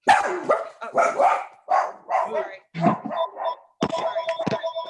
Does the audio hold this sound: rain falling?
no